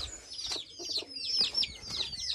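Hens clucking near a backyard pigeon coop on a family farm, with repeated short clucks and bright bird chirps in a steady, close rhythm and no talk.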